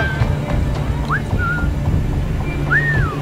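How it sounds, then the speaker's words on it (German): A player character in Assassin's Creed 4 Black Flag whistles to lure nearby enemies, giving two short rising whistles over a busy game ambience of low rumble and background noise. "können Sie B drücken, um zu pfeifen und so nahe Gegner anzulocken"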